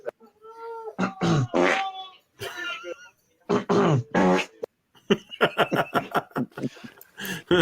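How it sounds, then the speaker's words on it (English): Repeated loud fart noises burst out in quick succession during a gaming livestream, coming between stretches of voices talking and laughing. "He's farting so hard he's fading into the background."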